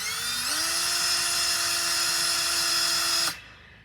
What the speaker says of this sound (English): Then I'm gonna be using the Milwaukee drill.